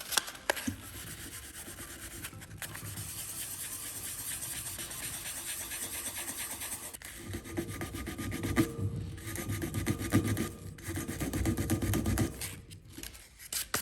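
Fine sandpaper rubs back and forth over spray paint up close, a continuous rough rasping with slight changes in pressure and brief pauses.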